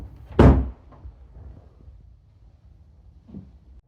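A house door with a busted frame bangs shut with one loud, close thump, followed by faint rattles and a softer knock a few seconds later as it fails to stay closed.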